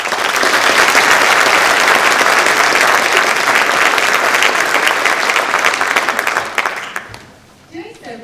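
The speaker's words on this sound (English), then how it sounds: "So let's all give a round of applause to celebrate the extraordinary ways these students have worked to improve their community." Loud, dense applause from an audience honoring students at a 2018 National Honor Society induction, a thick roar of clapping that holds steady and then drops off sharply near the end, where a voice briefly starts.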